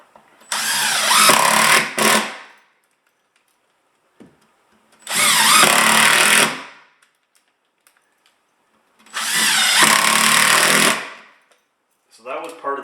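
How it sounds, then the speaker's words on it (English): Power drill driving screws at an angle into a plywood subfloor, three loud whirring bursts of about two seconds each with quiet gaps between, then the start of a fourth burst near the end. "So we'll put the screws in at a good angle."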